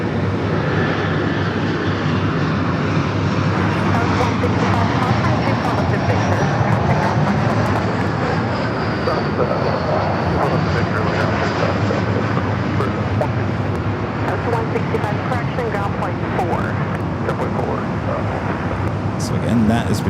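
Jet airliners flying over at LAX, Los Angeles, with a continuous broad roar of engine noise that swells and fades across the whole stretch, loud and steady, with faint talk beneath.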